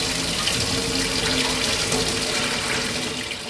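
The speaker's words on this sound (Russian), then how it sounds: "Я промыл икру до чистой воды. Сливаем воду." Tap water runs steadily into a bowl while pike roe is rinsed clean, giving a close, continuous splashing rush that barely changes from start to finish.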